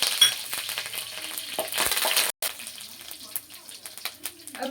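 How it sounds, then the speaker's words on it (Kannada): Mustard seeds and urad dal crackle and sizzle in hot oil for a traditional Indian spicy chutney tempering, a dense close frying hiss with a brief cutout midway, then quieter scattered pops. "ಸಾಸಿವೆ, ಉದ್ದಿನಬೇಳೆ ಸ್ವಲ್ಪ ಫ್ರೈ ಆಗಲಿ. ಇದು ಚಟಪಟ ಅಂತ ಸಿಡಿಬೇಕು"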